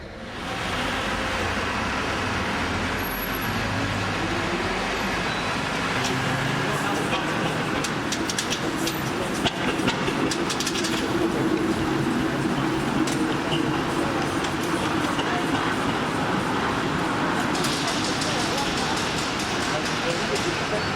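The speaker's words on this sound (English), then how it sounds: "Streets are getting busy as vehicles begin to arrive" Vehicles arrive on a busy street during a cart parade, producing a continuous broad rumble of engines and traffic with people talking throughout.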